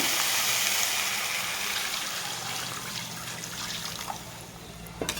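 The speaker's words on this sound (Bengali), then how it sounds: "একটু পরিমাণ বেশি করে জলটা দিতে হবে" Water pours into a pan of spiced vegetarian curry in a continuous, close rushing splash that slowly eases off, ending with a few light clinks.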